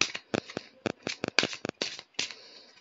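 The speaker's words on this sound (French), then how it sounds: "je mélange les cartes." A deck of cards being shuffled by hand, with a quick run of crisp riffling flicks and snaps close to the microphone, heard alone without talk.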